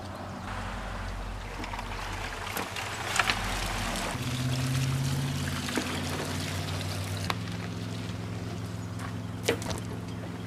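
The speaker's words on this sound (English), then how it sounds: "I have the boat on enough of an incline to drain some of this water out of here" Water drains and trickles out of a tilted boat in a steady pouring stream, with a low engine-like hum underneath and occasional knocks and clunks.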